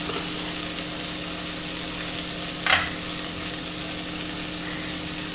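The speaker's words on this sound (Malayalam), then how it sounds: "നല്ലോണം അത് വഴറ്റി ആ തക്കാളി ഒന്ന് ഉടയണ വരെ വഴറ്റിയെടുക്കാം" Tomato sautéing in a pan with turmeric and chili powder for a Kerala Vishu dish: a loud, continuous close sizzle with one brief scrape partway through.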